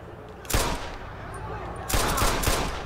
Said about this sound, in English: Yo, somebody's shooting down here.